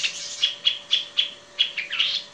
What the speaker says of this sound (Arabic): طائر القلطة المغرد